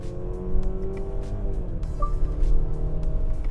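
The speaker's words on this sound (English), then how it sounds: "that acceleration is not coarse sounding and harsh" A vehicle engine hums steadily from inside the cabin as it accelerates, with a low smooth drone and muted road noise, no harsh revving.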